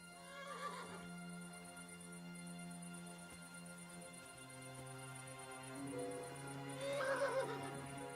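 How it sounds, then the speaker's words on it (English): A horse neighs in the medieval video game Kingdom Come Deliverance, two whinnies near the start and end, over a steady ambient hum. "Did I just hear a horse?"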